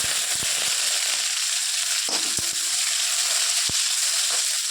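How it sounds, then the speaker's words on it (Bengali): Panch phoron spices hit hot oil in a home kitchen and sizzle loudly and continuously, with a few sharp crackles and pops near the start. "ও পাঁচফোড়নটা এই যে এখানে দিয়ে দিচ্ছি, পাঁচফোড়ন দিয়ে দিচ্ছি"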